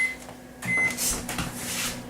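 A microwave oven set on high starts up for a microwave dinner, giving a short beep and then a steady running hum close by, with a brief clunk as it begins.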